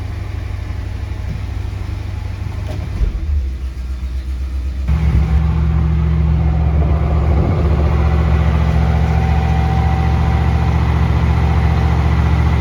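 A 1970 Chevrolet Caprice's big-block V8 idles loud and close, a deep steady rumble that shifts partway through to a slightly higher, even idle, with no talking.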